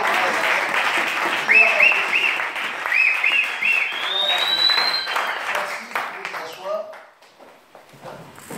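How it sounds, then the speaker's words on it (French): A church congregation at a seminar applauds and acclaims, loud sustained clapping mixed with raised voices and cheering, including a few high calls, that keeps going for several seconds before tapering off to near quiet at the end. "nous pouvons acclamer la parole de Dieu"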